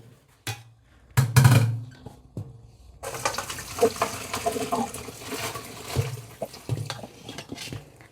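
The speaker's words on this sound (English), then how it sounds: "I'm gonna pour it out in this right here in the sink." Water from washing sorrel for a Jamaican sorrel drink is poured out into a kitchen sink, a few splashy bursts at first, then a steady close run of pouring and draining.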